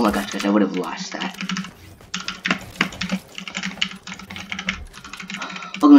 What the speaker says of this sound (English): we're doing some keyboard ASMR. Clicky ducky one to me